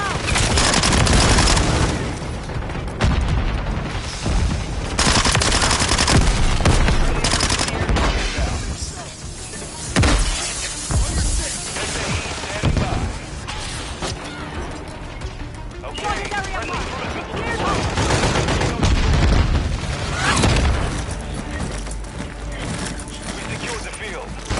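Heavy automatic gunfire and booms in the video game Call of Duty Modern Warfare 3, loud and near, in repeated rapid bursts throughout with short lulls, voices speaking over the shooting.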